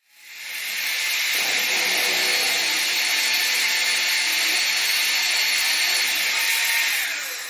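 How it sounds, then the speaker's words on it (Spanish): Power drill boring with a 1/4 inch bit while mounting a BricoTools guide, one loud steady high whine that spins up, holds for several seconds and winds down. "también utilizaré broca de 1/4 de pulgada para evitar que haya movimientos en los tornillos"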